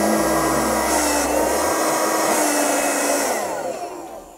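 A small 12-volt BELAVTO Shtorm BA-54B car vacuum cleaner whirs steadily at close range with a high motor whine, starting up and running continuously before its pitch begins to drop.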